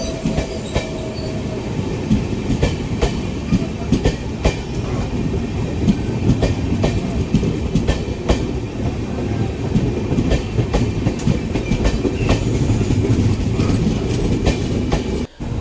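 The Palnadu Simhapuri Express, train 12710, rolls along with a steady loud rumble and rhythmic clickety-clack of wheels over rail joints, heard close from on board without pause for about fifteen seconds.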